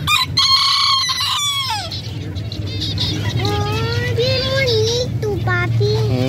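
Chickens and miniature roosters at an open-air market crow and cluck loudly and close, with repeated calls rising over a steady crowd murmur and background chatter.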